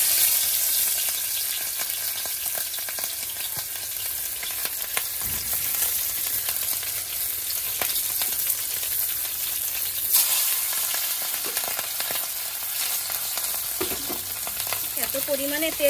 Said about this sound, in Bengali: মাছে নুন হলুদ মাখিয়ে নিয়েছি, এখন ভাজবো।